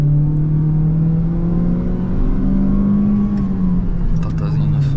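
A 2022 Peugeot 208 Allure 1.6 automatic accelerating at full pedal, heard from inside the cabin as a loud, steady engine drone that climbs slowly in pitch, with no speech.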